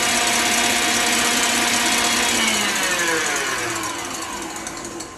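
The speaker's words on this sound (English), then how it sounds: "I'll drop down my whisk, and then I'm going to turn this on high" An electric mixer runs on high with a whisk beating egg whites for a pavlova, a steady whirring drone that slowly fades and softens toward the end.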